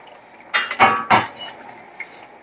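Okra goes into a pot of okro stew with mackerel fish: a few close, sharp clanks and knocks of a utensil against the pot come in a quick cluster, then quieter taps over a faint background.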